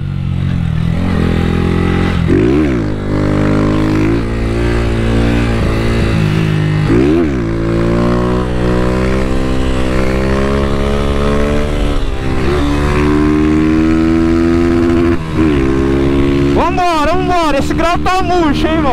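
Honda Titan 160 motorcycle with a two-step launch control, ridden on delivery runs, its engine droning steadily with shifting gears and revving, with sharp pops and bursts of revs near the end.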